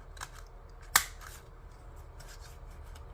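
A corner rounder punch bites through a sheet of paper in one sharp, close snip, set against quiet room hiss with a few faint rustles of paper handling.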